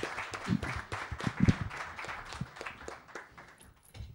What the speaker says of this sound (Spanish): os pido un fuerte aplauso para ella